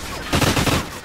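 Burst of gunfire in a tactical first-person shooter match, a loud rapid cluster of shots lasting about half a second against faint background noise.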